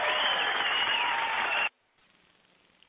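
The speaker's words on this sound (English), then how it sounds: "Everybody give him a round of applause for joining us" Talk show studio audience applauding a guest, a dense steady clatter of clapping that stops abruptly partway through, leaving near silence.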